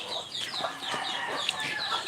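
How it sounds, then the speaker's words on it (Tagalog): Several chickens cluck and chatter close by in a busy, continuous stream of short calls. "Rinig nyo yung mga manok natin."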